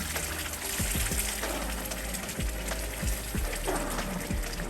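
Broth made with beef-style bouillon pours into a pot to deglaze it, a soft watery gush and bubbling with a few light clinks, steady and fairly quiet with no talking.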